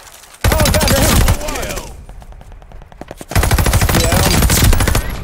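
Rapid automatic gunfire from a Tommy-gun-like assault rifle in the video game Call of Duty, loud bursts that pause briefly and then resume in dense rattling fire.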